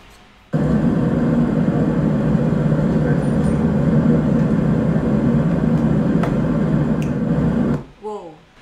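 A loud, steady low roar of recorded airplane cabin noise played from a HomePod at full volume fills the space, cutting off abruptly near the end, followed by a brief voice.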